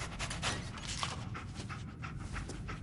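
Dogmeat, the dog companion in the video game Fallout 4, pants steadily in rapid, breathy rhythmic puffs, soft and close, continuing without pause and with no talk.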